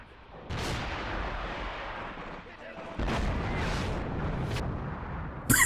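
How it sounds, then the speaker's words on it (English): Heavy booms of HE rounds fired at tanks in the Graviteam: Fateful Strike war game, several loud blasts with rumbling tails, one at the start, a bigger one midway and a sharp crack at the close. "Especially with those HE rounds they're lobbing at us."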